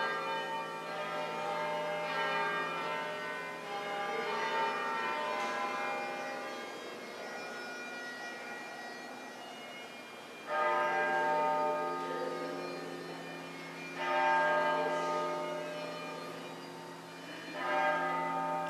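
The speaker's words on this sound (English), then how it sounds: "Nice backdrop with the bells ringing." Church bells of St. Paul's in Dunedin, New Zealand ring out at a distance, their overlapping tones swelling and fading with fresh strikes every few seconds, steady and resonant.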